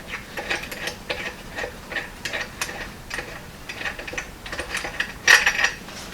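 A tool collapses a threaded nut insert inside a stainless frame spreader bar on a Model A hot rod shop truck, giving close, repeated ratcheting clicks and metallic ticks with a sharper clank near the end.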